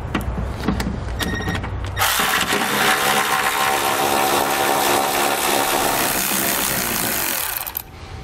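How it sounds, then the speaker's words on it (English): Bolts near the axle of a 2013 Lexus RX 350 are backed out with a 10mm socket on a power tool, giving a loud sustained whirring rattle after a few clicks, then stopping near the end. "to remove those, I'm going to be using a 10mm socket"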